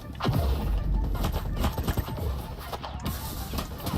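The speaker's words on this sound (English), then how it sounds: "Three people shooting at me is crazy." Gunfire from several shooters in the mobile shooter Battle Prime, a dense, continuous barrage of overlapping shots and impacts that stays loud and busy throughout.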